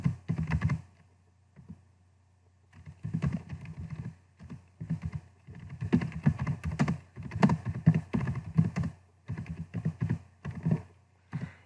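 Fingers type on a computer keyboard in a typing-practice exercise, with rapid clattering bursts of keystrokes broken by brief pauses, close and clear over a low hum.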